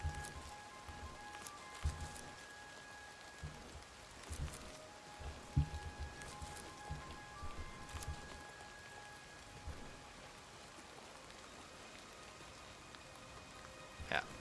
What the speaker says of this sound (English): Nice calming rain sounds.